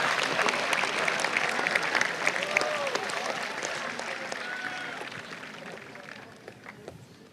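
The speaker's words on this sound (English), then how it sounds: "We please have a round of applause for Miss Karen Campbell" Graduation ceremony audience applauding a name reader, a broad sustained roar of clapping from a large crowd with faint voices and footsteps underneath, slowly tapering.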